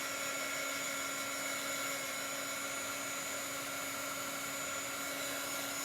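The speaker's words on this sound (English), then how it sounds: "So now I'm just going to dry it" A heat dryer runs with a steady, loud whirring blow while drying ink on a towel, continuous and close throughout with no voices.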